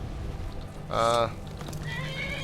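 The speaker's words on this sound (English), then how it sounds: "my horse, my regular horse... Whoa, hold on, is attacking me" A horse neighs in a video game, one loud whinny lasting about a third of a second, rising clearly above steady game background noise and a low hum.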